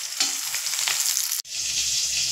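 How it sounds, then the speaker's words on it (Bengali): Rohu fish frying in hot oil, a loud, dense, close sizzle that runs almost unbroken with a brief dip midway before hissing on steadily. "মাছটা আমার ভাজা হচ্ছে।"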